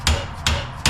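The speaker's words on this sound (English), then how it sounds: "we just been hammering the shit of this end point so bad that we disfigured it" A hammer strikes a hub puller on a tapered axle of a 1952 Dodge Coronet, three sharp metallic blows spaced evenly about 0.4 seconds apart, loud and close with no talking.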